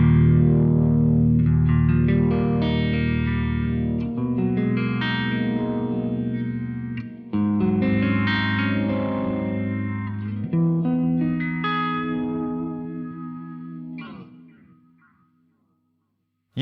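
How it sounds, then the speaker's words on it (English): A sustained guitar line through a classic vibe setting on a BOSS MD-200 modulation pedal swells and throbs with a pulsing, chorus-like wobble and echoey tail, loud and continuous before fading out near the end. "I've set up a classic vibe using the MD-200."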